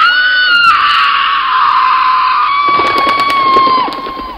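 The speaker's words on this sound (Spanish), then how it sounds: "María soltó un grito que retumbó en toda la selva" A woman's long, piercing scream rings loud and sustained in a jungle, wavering in pitch before breaking off near the end, with no talk over it.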